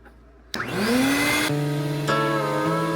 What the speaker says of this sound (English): I'm gonna turn the shop vac on just so it can kind of suck some of that dust into the shop vac